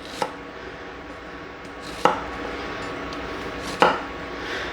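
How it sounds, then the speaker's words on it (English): Three sharp knife chops on a cutting board slice through an onion, spaced about two seconds apart, close and distinct over a quiet kitchen background. "And then I'm just going to chop them."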